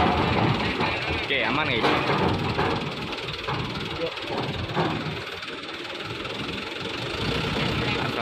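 A heavy mining equipment engine idles at a ferry port as vehicles board the ferry KMP SMS Sagita, a steady rumbling drone with loud broadband noise while people talk over it.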